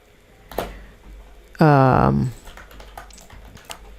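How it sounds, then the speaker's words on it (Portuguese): Someone types a Docker command on a computer keyboard. Soft clicking keystrokes come through in short bursts, and a loud spoken voice cuts across the middle. "tem que digitar Docker RMI"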